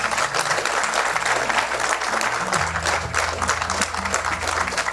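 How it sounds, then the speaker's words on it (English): Sustained audience applause for volunteers at the final night of a Ganesh Utsav festival, a dense continuous wash of clapping with music underneath. "I would like you to give them a round of applause."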